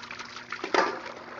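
Water dumped out of a container onto an outdoor wooden deck beside an outdoor kitchen, a brief splashing gush that swells midway and then trails off into soft trickling, close by, with no talking.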